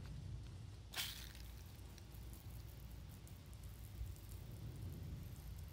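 A garden hose in shower mode sprays water from a pressurized tank in a Jeep JK bumper, giving a steady, soft hissing patter throughout, with one sharp splash or knock near the start; no talk.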